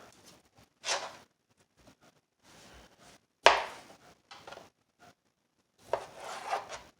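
A knife cuts slits into sausages on a board with a few short, scraping strokes separated by pauses. The sound is close and quiet, with no talking.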